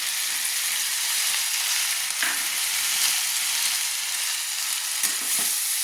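Yardlong beans and potatoes coated in ground cumin paste fry in a pan with a loud, dense, unbroken sizzle. Occasional soft scrapes of stirring sound close by, with no speech.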